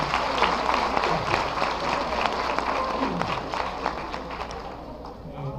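An audience at a lecture on genetic research in forensic science applauds to welcome a speaker, with thick, sustained clapping that starts loud and gradually fades toward the end.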